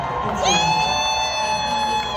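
A crowd cheers and whoops at an outdoor political rally, a sustained wash of voices with a bright tonal element running steadily through the whole short stretch.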